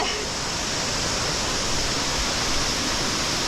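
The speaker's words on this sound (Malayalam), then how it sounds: "ഇതാണ് ഞങ്ങളുടെ വെള്ളച്ചാട്ടം" Madassery waterfall in Thiruvananthapuram gives a loud, constant rushing roar of falling water that fills the whole moment without a break.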